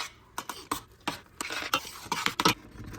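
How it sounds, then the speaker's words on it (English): A spoon stirs pectin into cranberry strawberry jam as it comes to a boil, making soft, irregular scraping and clinking strokes against the pot, quiet and close. "Now we're just gonna stir that pectin in really good while it comes to a boil"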